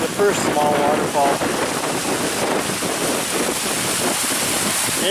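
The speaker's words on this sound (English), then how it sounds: "It is very windy up here." Strong wind roars across a cliff top about 150 feet up at Pictured Rocks, Michigan, in January, a loud, steady broadband rush with gusts buffeting the microphone throughout and some faint tonal sounds early on.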